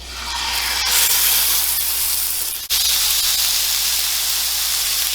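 A burger patty sears in a piping hot cast iron pan, a loud, continuous close-up hiss that swells at the start and drops out for an instant midway before resuming at full strength.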